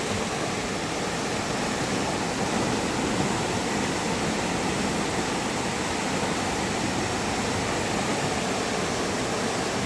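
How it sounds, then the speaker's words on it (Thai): Rushing water at Wang Ta Krai waterfall pours continuously, a loud, even broadband hiss and rumble heard up close with no voices. "ฟังเสียงน้ำไหลโอ้โห"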